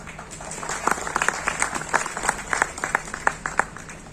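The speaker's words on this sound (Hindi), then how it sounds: "जोरदार तालियों के साथ।" Audience applause greets a guest invited onto the stage at an honour ceremony in Nagpur: a moderately loud, uneven patter of many hands clapping at medium distance, with no speech over it.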